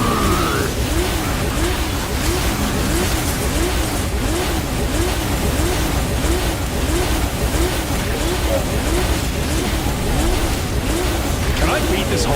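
Demon car doing burnouts and donuts in the video game Devil May Cry 5, a steady roaring engine with wavering revs running continuously under excited voices.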